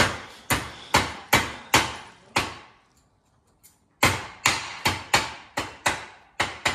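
A small hammer knocks a washer into place on a car in a workshop, about ten sharp, close metallic blows in two quick rhythmic bursts separated by a brief pause.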